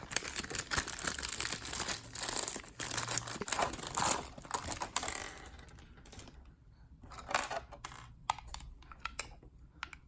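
Plastic packaging being pulled open around a figure's display base, with close, busy crinkling and tearing that comes in dense bursts early, then thins to scattered sharp crackles.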